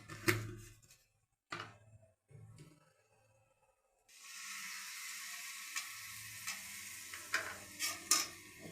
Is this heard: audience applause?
no